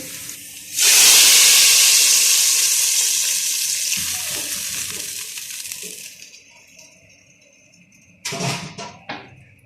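Hot tadka with cut green chillies is poured into whole masoor dal and erupts into a loud, bright sizzle that slowly fades, followed near the end by a few clinks and stirring noises from the pot.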